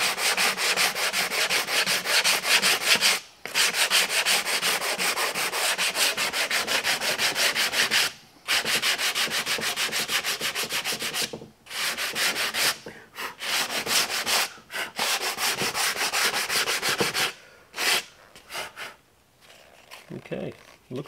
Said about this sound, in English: because we're sanding lightly